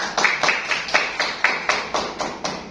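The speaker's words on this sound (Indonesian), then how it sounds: "bagus, tepuk tangan untuk Bapak ini." Classroom applause for a participant during a teaching practice lesson, heard as a run of about ten evenly spaced, sharp claps close by.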